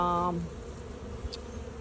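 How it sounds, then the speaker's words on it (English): Honey bees hum over hive frames during a June mite-control inspection, a strong buzzing tone that fades after a moment into a steady, softer drone of the colony. "They got bees on them, but you know, they're not doing anything."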